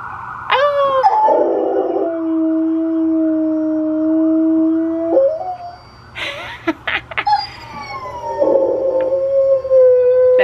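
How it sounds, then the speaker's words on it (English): A 120-pound Rottweiler howls close by in a home, with long sustained tones sliding in pitch, broken by a few short yips and whimpers before the howl resumes. "He usually howls."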